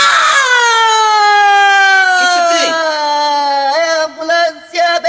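An ambulance siren effect set inside a song wails loudly as one long, slowly falling glide that fills the clip, with the music cutting out briefly near the end.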